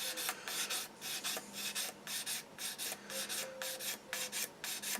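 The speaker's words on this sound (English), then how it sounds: "Just getting rid of all the scratches from the previous higher grit sander" A Tamiya Calsonic Skyline model car body is sanded by hand in regular back-and-forth strokes, a soft close rasping repeated steadily throughout.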